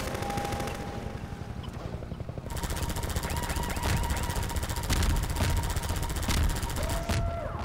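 Rapid automatic gunfire in Half-Life 2 rattles continuously at mid-distance with sharp individual cracks, layered over a constant mechanical drone and scattered game sounds.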